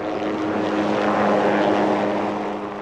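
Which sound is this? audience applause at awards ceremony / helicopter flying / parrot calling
helicopter flying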